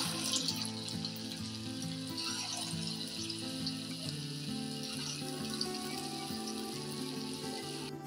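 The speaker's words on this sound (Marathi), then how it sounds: "आता हे काढून घेते मी आणि अशाच पद्धतीने आता सर्व भजे तळून घ्यायचे आहे." Bhaji fritters fry in hot oil with a continuous bubbling hiss, broadband and even throughout, close by, with a faint tonal hum underneath and no voices.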